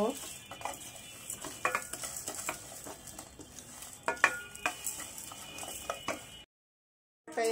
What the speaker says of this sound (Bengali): মশলাটাকে আমি হালকা রোস্ট করে নিব